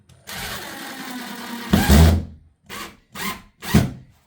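A power tool whirs in a long run while installing a Tesla portable EV charger, then gives three short bursts in a row, close by and fairly loud, with no talking over it.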